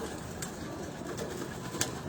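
A racing pigeon on a rooftop loft coos softly at a distance, its low murmuring call barely rising above a steady background hiss, with one brief clack near the end.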